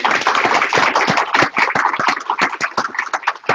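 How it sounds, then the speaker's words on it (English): An audience at an economic summit applauds the speakers, a dense, loud burst of many hands clapping continuously with no talk over it. "let's give a big hand to our speakers"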